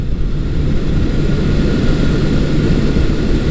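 A restored Honda CB750 motorcycle engine runs under throttle, a dense, continuous low rumble close by and steady over a few seconds.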